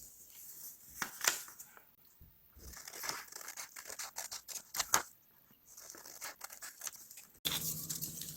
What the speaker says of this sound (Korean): 여기 접혀져 있는 선을 따라 가위로 자르겠습니다.